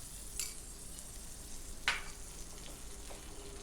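Crushed peanuts being stirred into a simmering vegetable dish over low heat, a soft steady sizzle with a few light scrapes of the spoon against the pan.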